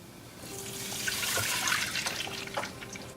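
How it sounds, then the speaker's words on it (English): Water pours into a pot for a rice pilaf, a brief splashing trickle building and then easing, faint and close. "Now I'm going to bring 2 cup water."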